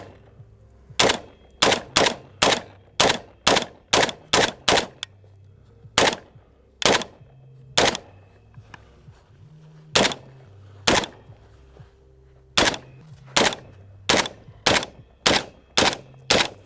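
Palmetto State Armory AK-47 rifle fired in a rapid string of sharp shots, then a few spaced single shots, then another quick string, loud and close with no talking.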